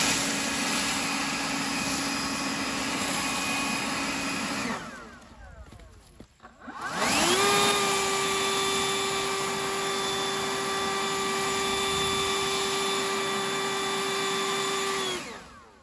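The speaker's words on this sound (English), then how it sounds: "I wanted to show you just how different the high is versus the actual boost" A Toro 60V Flex-Force battery electric leaf blower whines steadily at high, cuts out briefly, then spins back up to a louder, higher-pitched boost setting and holds there, close and continuous with no talk.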